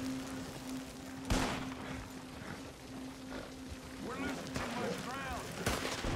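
Scattered gunfire in a Red Dead Redemption 2 shootout: a sharp nearby shot, then distant cracks and echoing reports over a steady hum, with someone talking between them.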